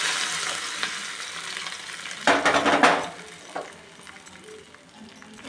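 Cashews and raisins fry in hot ghee for kalkandu pongal, a steady close hiss that jumps into a louder crackling sizzle as they go in, then settles back to a quieter fry.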